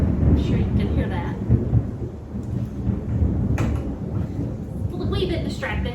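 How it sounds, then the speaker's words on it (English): Low rumbling thunder from a winter storm rolls steadily through the whole stretch, loud and deep with scattered knocks and clatter over it, heard from indoors during a kitchen cooking session. "This is lightning too, so I'm sure you can hear that."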